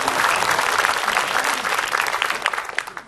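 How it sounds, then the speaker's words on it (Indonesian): An audience claps for Ustadz Abi Maki as he is introduced at an Islamic religious gathering, a dense burst of many hands that holds steady and then thins out toward the end. "Tepuk tangan buat Ustadz Abi Maki."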